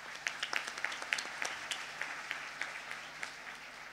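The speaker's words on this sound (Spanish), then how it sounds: "Un fuerte aplauso para Marta." Scattered, modest applause for Marta at a health recycling session, a small audience clapping with distinct individual claps at a fairly quiet level.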